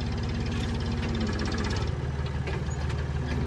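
A forklift engine runs with the throttle raised, a steady close mechanical rumble with a knocking pulse throughout, with no one talking.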